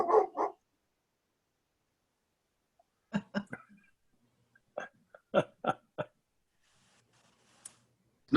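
A dog barking in the background of a Zoom meeting, a few short separate barks and yips at irregular intervals, moderately close, with quiet gaps between them.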